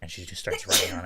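A single sharp sneeze bursts out right after someone finishes speaking, close and fairly loud, during a casual tabletop roleplaying session.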